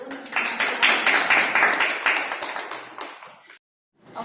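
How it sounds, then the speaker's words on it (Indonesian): A group of students in a classroom session bursts into applause, dense overlapping hand claps that swell then taper off and stop abruptly, followed by a moment of silence. "Mungkin kita boleh tepuk tangan dulu."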